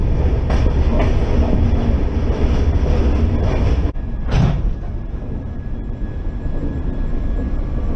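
A passenger train rolls along the rails in a loud, continuous rumble heard from on board, with wheel clatter and brief rattles and thumps from the carriage, and no voices.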